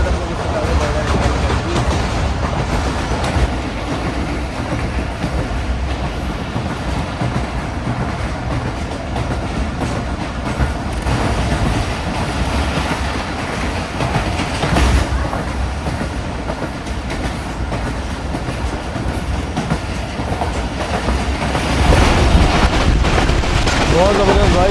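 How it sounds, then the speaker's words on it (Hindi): The Millat Express passenger train runs at good speed along a branch line, with a continuous loud rumble and rhythmic clickety-clack of wheels heard from on board, plus wind buffeting and occasional voices underneath. "अच्छी स्पीड में जो चल रही है ट्रेन हमारी इस वक्त"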